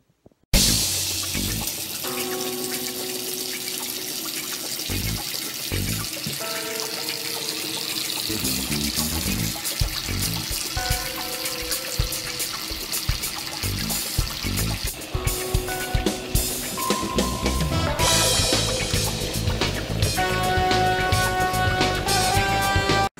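A bathtub fills with running tap water and chamomile bubble bath, a close, steady splashing stream that carries on without pause, with clinking and handling noises layered over it and no talking.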